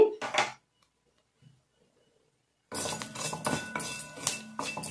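Beradu roasting in a pan, stirred with a utensil that clinks and scrapes, in a brief burst, then a long silence, then a steady run of rattling scrapes with a voice talking underneath.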